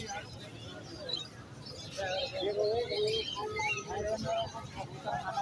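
Pigeons at a Sunday pigeon market in Lalukhait, soft cooing and chirping from several birds amid general market murmur, with people talking faintly in the background.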